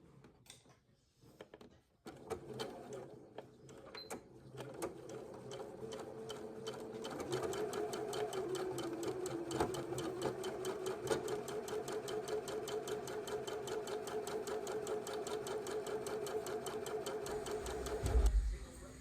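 A sewing machine stitches the seams of a garment bodice with a steady, fast mechanical whirr and needle chatter. It starts in short bursts, then settles into a long continuous run close by and ends with a thump.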